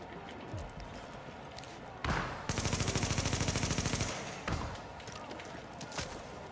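Rapid gunfire from a weapon in the video game The Division, a sharp burst of fast repeated shots lasting about a second and a half, framed by single heavy bangs before and after.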